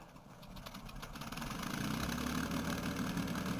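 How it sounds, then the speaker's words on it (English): Aircraft engines warming up before takeoff, a steady low droning rumble that swells slightly and holds, faint and continuous with no voices over it. "they're warming up the engines. We're going to be taking off soon"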